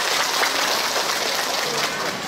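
Dense, steady applause from a crowd at a Vu Lan filial piety ceremony in Vietnam, a continuous rain-like patter of many hands clapping throughout.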